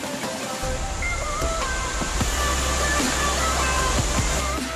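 Proklamator waterfall rushes as a loud, steady broadband roar of falling water, heard from nearby, with faint background tones and small knocks mixed in.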